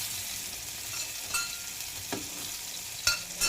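Garlic sautés in a hot pan for escabeche, a steady bright sizzle with a few scrapes of stirring cutting through, no voices over it.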